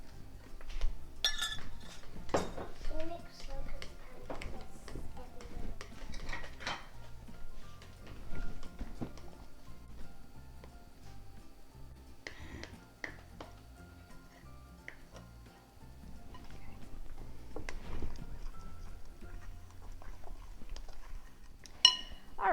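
A child mixes chocolate chip muffin batter in a bowl, giving quiet, irregular clinks and scrapes of utensil against the bowl, with brief pauses and no talking.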